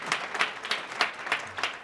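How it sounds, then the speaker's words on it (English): Audience clapping at a chamber of commerce business forum, a thin, scattered patter of hands with uneven bursts, moderately close and fairly quiet, lasting under two seconds. "Please join me in a big round of applause for Northeastern Savings Bank"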